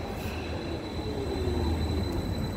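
Interior of a moving Stadtbahn light-rail train in Stuttgart: a continuous low rumble of wheels and car body with a faint high whine, steady and enveloping, with no voices.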